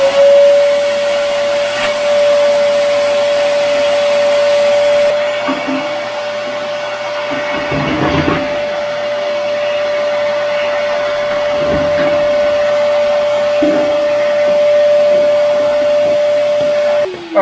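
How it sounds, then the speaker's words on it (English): A shop vacuum runs steadily and loudly while sucking ash out of the ash pan of a Harman pellet stove, with a constant drone and occasional rattling bursts as debris is pulled in. "we're going to take the vac, suck that up"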